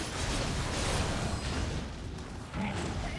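A bomb bursts in the Nioh video game, a dense, noisy blast that fills the whole moment, loud and rumbling before fading slightly.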